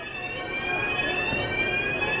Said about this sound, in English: we got a little false alarm, fire alarm going on right now